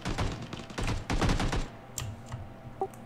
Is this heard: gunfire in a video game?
yes